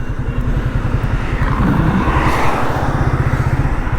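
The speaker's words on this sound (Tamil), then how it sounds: "எஸ் பாருங்கள், ஒவ்வொரு கியருக்கும் இந்த வண்டியோட பிக்கப் எப்படி." A Yamaha FZ-25 BS-6 motorcycle engine pulls hard under acceleration through the gears, a loud, close, steady throbbing drone that rises in pitch without a break.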